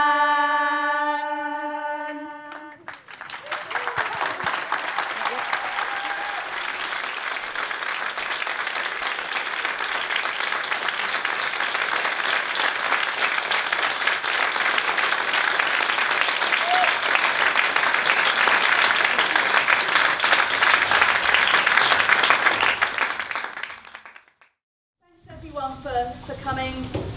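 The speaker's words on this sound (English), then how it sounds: "you clapped the cast here" A live theatre audience applauds the cast of a 2023 show in a long, dense burst of clapping that swells, holds for about twenty seconds and fades, with talk and music on either side.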